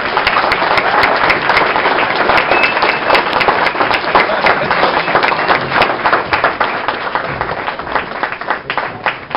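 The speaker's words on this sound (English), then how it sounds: "Lisa Viewer, give her another round of applause" Dense, sustained audience applause at a party, loud and continuous for the whole stretch with many overlapping hand claps.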